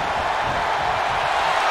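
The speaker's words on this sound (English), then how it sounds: "The sound of this crowd is deafening, and he's asking for more." A video game arena crowd in WWE 2K22 roars in a steady, dense wash of cheering that holds constant and loud throughout, with no commentary heard.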